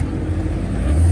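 A loud 5.0 V8 car rolls into a car meet, its deep, rumbling low exhaust drone close and steady, swelling slightly toward the end.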